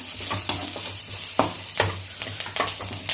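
Coriander powder mixture frying in hot oil gives a steady close sizzle, broken by several sharp scrapes and knocks of a spoon stirring the pan, with no voices.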